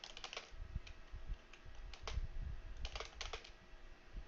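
Keys clatter on a computer keyboard in short irregular bursts of quick taps, close and fairly quiet, with no talking.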